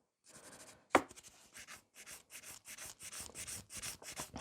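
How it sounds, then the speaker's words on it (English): Rhythmic dry rubbing of a nail buffer across a fingernail during a Valentine's nail art session, a steady run of short back-and-forth strokes close by after a single sharp tap, with no talking. "I'm just buffing it well."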